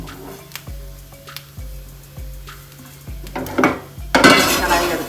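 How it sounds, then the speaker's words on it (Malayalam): A kadai (wok) set down on a gas stove with metallic clanks and pot knocks, followed by loud rising sizzling as the pan heats and cooking begins, close and without talk. "കടായി എടുത്തി വെച്ച് കൊടുത്തിട്ടുണ്ട്."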